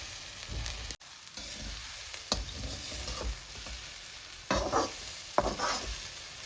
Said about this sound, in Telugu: చక్కగా వేయించుకోవాలి గైస్.